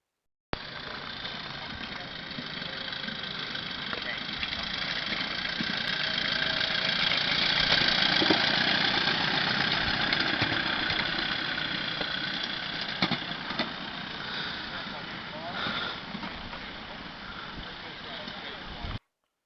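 A small locomotive engine runs with a steady droning rumble as it pulls a passenger trolley along a track, sounding close and continuous and swelling slightly midway.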